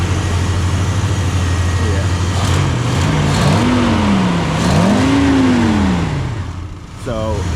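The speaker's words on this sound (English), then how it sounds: "This is a slow little motor." A Dodge car engine idles with a steady low rumble that rises and falls in pitch as it is revved, running continuously close by while someone talks over it.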